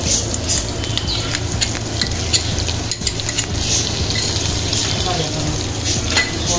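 Ginger garlic paste fries with sautéed onion and green chili in a pan for mutton dalcha. The sizzle is loud, dense and continuous, with light clinks of a ladle throughout.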